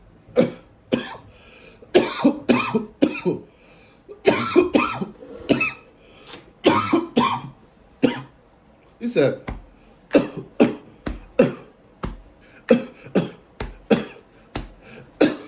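Someone coughs repeatedly in harsh, rapid bursts, fit after fit close to the listener, with brief talk mixed in between.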